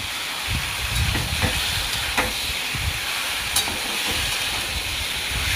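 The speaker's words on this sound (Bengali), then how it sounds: "এবার আমি কড়াইয়ে তেল নিয়েছি, এটাতে চিকেনটা ভেজে তুলে রেখে নেব" Chicken pieces frying in hot oil in a kadai, giving a steady, fairly loud sizzle and hiss with occasional bubbling crackles and stirring clinks, with no voices.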